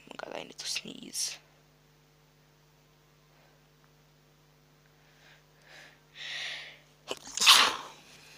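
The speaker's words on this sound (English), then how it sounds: "Sneeze." A single loud, sharp human sneeze bursts out near the end over a steady electrical hum, preceded by a few short breathy noises and clicks.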